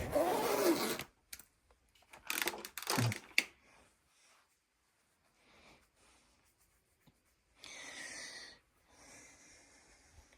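Side zippers on Hoover soft bag upright vacuum cleaners being opened and closed, a few separate rasping zips with pauses between, close and fairly quiet, with no one talking.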